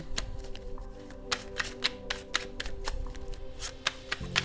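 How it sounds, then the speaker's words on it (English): Tarot cards shuffled by hand up close, a busy run of crisp riffling snaps and soft slaps, with light background music under it. "I want to really give it another good shuffle"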